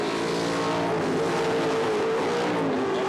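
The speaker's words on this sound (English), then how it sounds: "Tiranas giving it plenty at this stage. Snapping at the heels of Colin Bond's Falcon as they run down the straight" 1977 touring cars, including a Ford Falcon and a Torana, race down the straight at Sandown, a continuous loud multi-engine roar at high revs that holds steady for a few seconds with no break.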